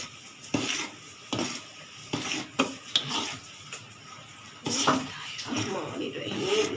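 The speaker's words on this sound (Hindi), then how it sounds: "अब हम इसके अंदर 2 किलो चावलों का आटा इस तरह डाल के आपने अच्छी तरह मिक्स करना है।" Two kilos of rice flour worked into a linseed-flour mixture in a pot off the heat, heard as close, irregular scraping and stirring strokes with soft thuds and rustles.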